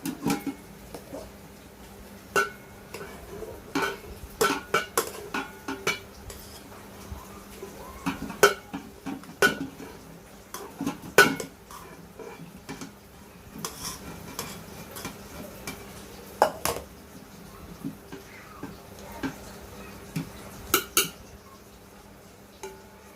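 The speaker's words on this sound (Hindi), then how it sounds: "इसके बाद फिर से हम इस पे चावल डालेंगे।" Rice tipped into a pot while layering mutton dum biryani, giving scattered soft clatters and scraping knocks of utensil against cookware over a low steady hum, with no talking.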